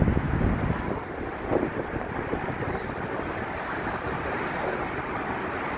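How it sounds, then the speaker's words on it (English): Wind buffeting a microphone outdoors near a bridge, a steady loud low roar with gusty rises, strongest at the start, with no voice heard. "Probably can't hear me much because there's wind."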